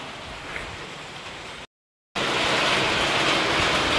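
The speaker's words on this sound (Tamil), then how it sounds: "சரியான மழை பெஞ்சிட்ருக்கு. வாங்க பார்க்கலாம்." Heavy rain falls outside in a steady, dense hiss that cuts out for a moment, then returns louder.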